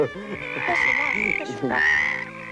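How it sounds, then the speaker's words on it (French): A small frog croaks in two drawn-out, rasping calls separated by a short pause, close and fairly loud. "Titan, c'est une grenouille!"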